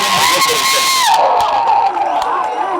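A large crowd at a Kamal Haasan political rally roars with cheers and whoops, a loud dense wall of voices that holds steady for the full few seconds with no applause standing out.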